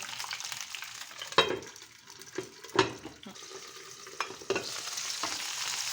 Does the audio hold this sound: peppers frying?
yes